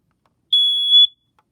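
A smoke alarm dated August 2005 sounds during a test: a single loud, piercing electronic beep, roughly half a second long, alone in otherwise silent surroundings.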